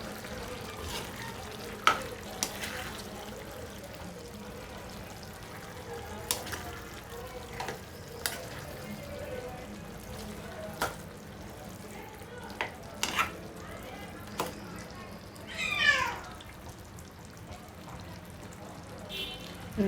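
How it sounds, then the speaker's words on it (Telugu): Tomatoes sizzle in a pan for gizzard curry while a spoon stirs them, a steady quiet frying hiss punctuated by scattered utensil taps and a brief louder scrape near the end. "టమాటాలు వేసుకొని ఒకసారి తిప్పుకుందాము."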